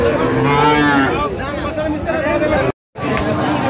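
Loud cattle mooing at a market of Friesian and crossbred bull calves, several drawn-out calls from close animals, with a crowd's background chatter and a brief dropout near the end.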